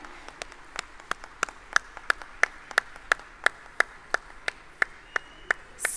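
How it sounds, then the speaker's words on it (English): A single pair of hands claps at a steady, evenly spaced rhythm, sharp and fairly close, at an anniversary celebration event with a small audience. "please keep that applause going."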